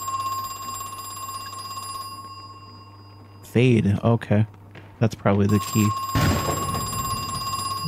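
A telephone rings in the Crow Country video game as a steady electronic tone, heard at the start and again near the end. A person talks over the middle section.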